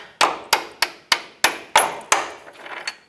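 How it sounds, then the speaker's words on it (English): Repeated hammer blows drive a bolt out of a Ford F-150 front shock mount, seven sharp metallic strikes at a steady rhythm, close and loud, followed by a few lighter taps. "Take a hammer, hammer the bolt out."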